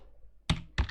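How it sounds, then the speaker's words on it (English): Two quick, close computer keyboard keystrokes in a quiet room, separate clacks about half a second apart, with no talking. "all they have to do is click in the box and type the answer"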